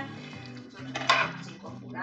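Cooked meat being stirred into chili sauce in a pot for tamales, with a utensil scraping and clinking against the pot in a short close burst of kitchen clatter over a low hum.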